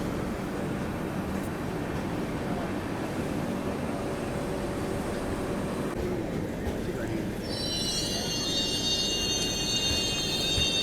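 On the parallel Akola–Bhusawal line, a passenger train rolls past with a steady, loud rumble, and high squealing wheels rise sharply near the end.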